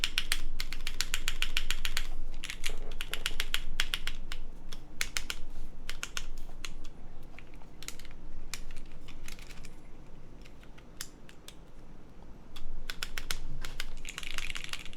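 Keycaps are pressed and clicked onto a mechanical TKL keyboard during a build, giving a dense run of sharp plastic clicks and snaps, close and crisp, with brief pauses between bursts.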